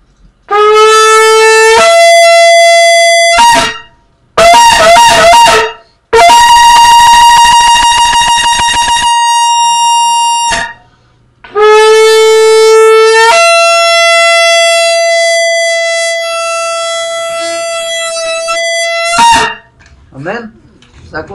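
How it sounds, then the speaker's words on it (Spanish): A shofar blown in several long, loud, piercing blasts, some rising in pitch, broken by short pauses and a few quick staccato calls near the end, close and with no voices over it. "Lo voy a volver a sonar."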